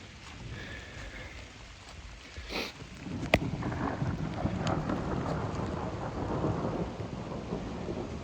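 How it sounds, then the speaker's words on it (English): Thunder rolls through a rainstorm in a low, building rumble over steady rainfall, with a couple of sharper cracks partway through. No voices are heard. "So if you can hear that thunder, I'm trying to get out of here."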